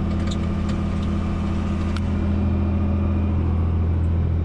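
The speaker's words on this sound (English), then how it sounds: "Let's go get on the tractor and planter and plant some corn." A tractor pulling a corn planter through a field, its engine a steady loud low rumble throughout with faint rattles and clanks on top, no talking.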